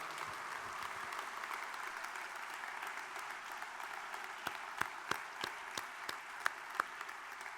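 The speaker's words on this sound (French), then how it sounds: "Alors, je voudrais qu'on les applaudisse très fort parce que ce sont des résistants de la liberté," Plenary session audience applauding, a soft, distant wash of clapping from a large hall, with a few sharper, nearer claps standing out toward the end.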